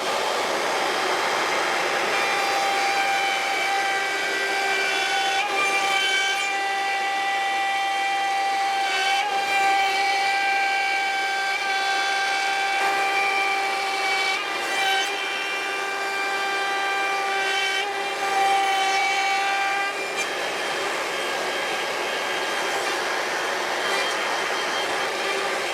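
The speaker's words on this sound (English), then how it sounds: "I am going to route the rabbet." A router table routes a rabbet in plywood, a loud steady high-pitched motor whine with tonal harmonics that dips briefly several times as the cut is fed, continuous throughout.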